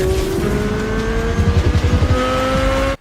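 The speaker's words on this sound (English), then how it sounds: "The LT6 in the new Chevy Corvette C8" A Chevrolet Corvette C8 Z06 with its naturally aspirated LT6 V8 revs hard, a loud snarling engine note climbing and pulsing through quick shifts before cutting off abruptly.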